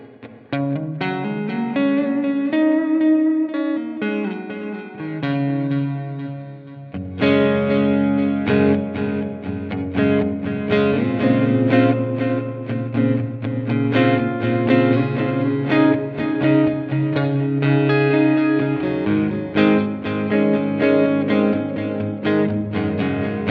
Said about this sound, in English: in mode number 4 is delay and a room reverb